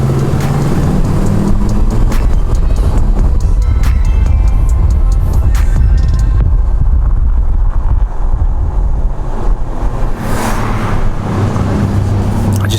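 A Ram truck engine drones and revs while driving, loud and continuous with heavy wind buffeting the microphone, the roar swelling and easing without talk.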